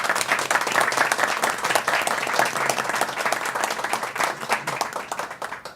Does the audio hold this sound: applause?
yes